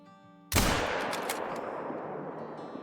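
One sharp, loud rifle shot rings out at a bobcat in the hunting game Call of the Wild, followed by a long, rolling echo that slowly fades across open terrain.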